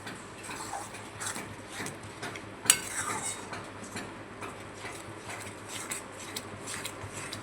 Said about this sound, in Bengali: এখন টক দইটা ভালো করে মিশিয়ে দেবো।